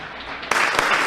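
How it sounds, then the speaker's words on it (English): A round of applause breaks out midway, a dense burst of clapping from an audience at a formal event on transitional justice in Colombia, steady and fairly loud with no voices over it. "And now, with this round of applause, we welcome the committee"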